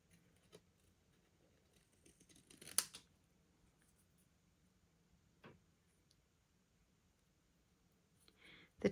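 Sharp Stampin' Up! Snip scissors cut out a paper letter for a scrapbook page, making quiet, sparse close snips with a busier burst of cutting partway through and another at the end.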